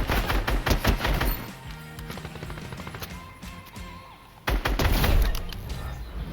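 SCAR assault rifle in a first-person shooter video game firing rapid bursts of loud, sharp gunshots, with a quieter stretch in the middle before another heavy volley.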